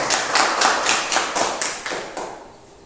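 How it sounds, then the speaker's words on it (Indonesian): A classroom of students applauding a classmate's answer, steady rhythmic clapping in unison for about two and a half seconds, fading out toward the end. "Tepuk tangan."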